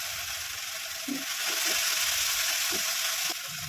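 Spices for a Bombay duck curry with potatoes frying in a pan with turmeric, red chili powder and a splash of sesame water, a steady bright sizzle with a few soft stirring knocks.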